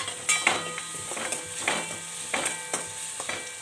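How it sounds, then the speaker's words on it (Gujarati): Tomatoes tumble into onions that are frying and sizzling in a pan. Steady hiss runs underneath several distinct stirring scrapes, with no talking. "તો હું ટમેટા નાખી દઈશ આમાં।"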